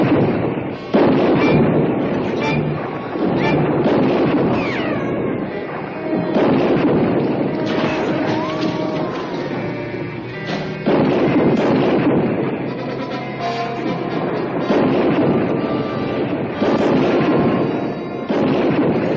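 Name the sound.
gunfire in a 1967 western film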